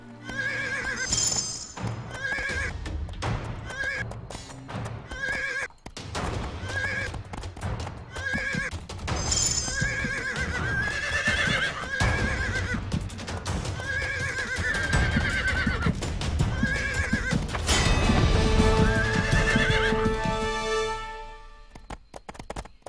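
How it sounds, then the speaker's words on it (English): Horse in the online game Riders of Icarus, just tamed, neighs and whinnies repeatedly with clip-clopping hooves, loud and close, set against steady game music with no talk. "Yay, we've got ourselves a horse."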